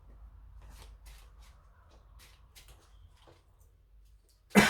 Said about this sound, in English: So I want you to just give them another little shuffle.